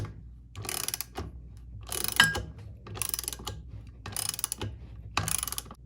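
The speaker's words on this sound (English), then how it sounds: "I'm going to use a 13mm socket and ratchet to tighten this down." A 13mm socket on a ratchet tightens large screws through a bracket into plastic, giving repeated bursts of close, crisp clicking separated by short pauses.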